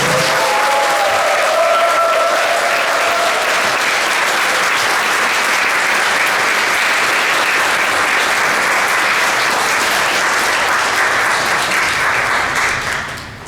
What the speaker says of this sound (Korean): 우레와 같은 박수로 환영하겠습니다